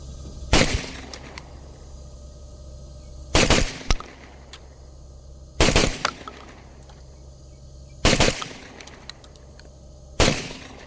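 Five loud shotgun blasts from a Beretta Ultima Patrol A300 semi-auto, fired at a steady pace about two seconds apart, each a sharp crack with a short ringing tail over a quiet outdoor background.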